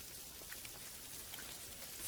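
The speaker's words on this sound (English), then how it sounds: "oh, it's raining." Rain falls softly and steadily, a faint even hiss with scattered tiny drop patters and no voices.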